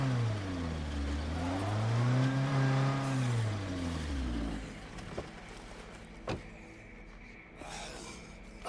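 In State of Decay 2, a car engine revs up and down in a smooth swelling sweep, then settles into a rougher idle punctuated by a few sharp clunks and thuds, with no speech.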